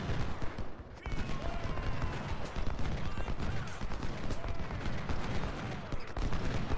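Massed musket volleys from infantry lines in Ultimate General: Civil War, a dense continuous crackle of overlapping shots at mid distance, steady throughout with no clear pauses.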